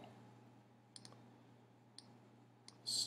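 A computer mouse gives three or four soft, quick clicks while a part is being modelled in design software, heard up close over a faint, steady electrical hum in a quiet room.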